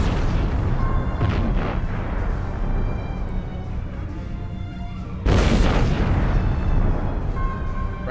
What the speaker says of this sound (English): Random explosions just popping out of nowhere.